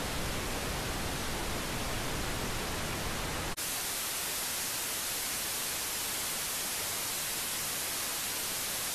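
Pink noise test signal: a steady, broadband hiss that abruptly drops into a different, quieter noise texture partway through, with no voices.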